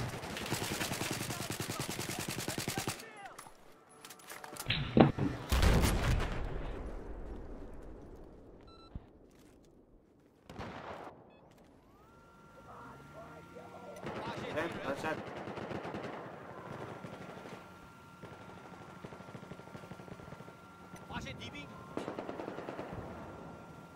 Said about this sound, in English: Have eyes on hostile machine gunner.